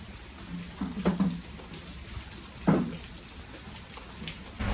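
Monsoon rain falls outdoors in Palghar near Vandri Lake, a steady hiss of drops with a few louder splashes standing out briefly.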